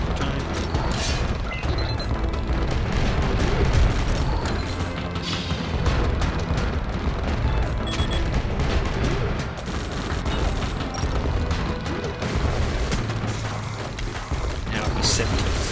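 Cannon turret fire in the iOS tower-defense game OTTTD, steady dense booms and crashes layered with gunfire and mechanical clatter over a continuous busy game soundscape, with a voice talking throughout.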